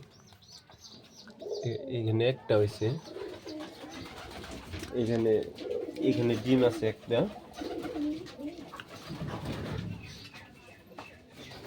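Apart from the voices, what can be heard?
pigeons cooing in a pigeon farm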